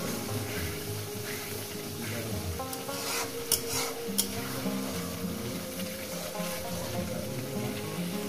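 Ghee going into a pan for chicken kosha: a steady sizzle with scraping and stirring of the spatula against the pan, plus a couple of sharp metallic knocks.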